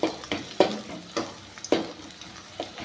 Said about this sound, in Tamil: அப்படியே எண்ணெயில் கொஞ்சம் நேரம் வணங்கிட்டுப்பா ஓகேப்பா இப்போ இதில் பார்த்தீங்கன்னா என் வெங்காயம் வந்து கொஞ்சம் நல்லா வணங்கியிருக்குது